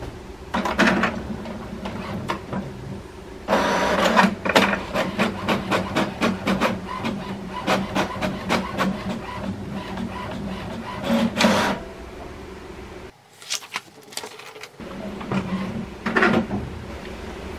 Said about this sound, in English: Print the status report by pressing on the resume button.